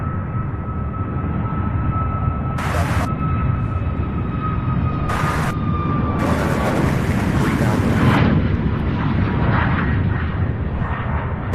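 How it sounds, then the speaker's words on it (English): Southwest Boeing 737 MAX 8 airliner passing at Louisville International Airport, a loud steady jet roar with a faint high whine that swells slightly toward the end, heard from outdoors at a distance with occasional sharp noise bursts. "Southwest 1685, a Boeing 737 MAX 8, just 4 years old, heading to Phoenix"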